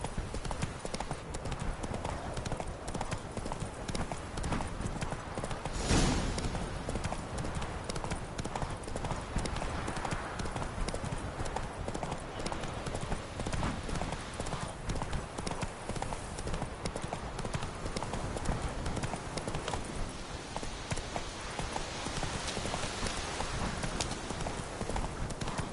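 Horse hooves gallop in The Witcher 3, a steady, dense clip-clop that runs without a break at close range, with faint game ambience beneath it and a brief louder burst near the start.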